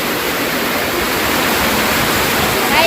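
Rushing water roars loud and close as a steady, dense wash of noise that never lets up.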